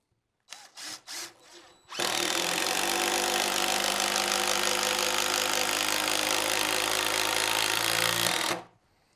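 A DeWalt impact driver runs a screw into wood, starting with a few quick trigger bursts and then a loud, steady, close hammering whir that lasts about six seconds before stopping abruptly.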